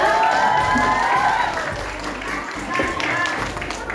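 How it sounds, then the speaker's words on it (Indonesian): A hall of women at a religious study group quiz, clapping loudly together in a dense burst of applause that thins slightly, then picks up again, with voices mixed in. "Kirang panas ibu tepuk tangan deui biasa."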